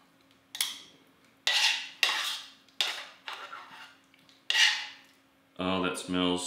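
Metal tongs scraping and clinking against a pan while twirling spaghetti, several separate sharp scrapes with pauses, followed by a short burst of speech.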